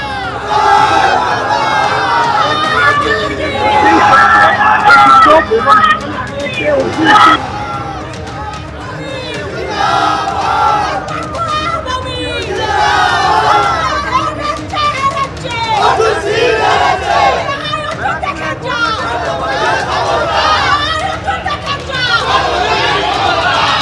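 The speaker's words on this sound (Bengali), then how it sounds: "আমি দেখতে পাচ্ছি এখনো স্লোগান পাল্টা স্লোগান চলছে" Large crowd outside an election vote-counting centre in Barrackpore during the 2024 results, loudly chanting political slogans and counter-slogans, a dense and continuous roar of shouting voices close by.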